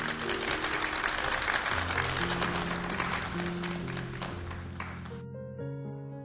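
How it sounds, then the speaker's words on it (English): Applause for the first group of graduates at the Simonds High School 2020 virtual graduation, a thick burst of clapping over background music that cuts off abruptly near the end, leaving the music alone. "Can we please have a round of applause for your first group of graduates?"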